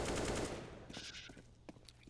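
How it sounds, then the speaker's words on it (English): Automatic shotgun fire from an XM1014 in a Counter-Strike match, a dense burst of loud blasts at the start that tapers into sparse, fainter shots and scattered game noises. "We have FaceCrack with an XM1014, also known as the automatic shotgun or auto shotty."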